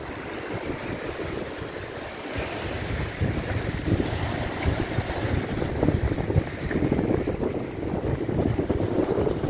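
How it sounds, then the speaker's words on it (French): Steady, loud wind buffeting the microphone on the beach at Sète, with rushing broadband noise and a wash of waves or water in the background throughout. "il y a du vent"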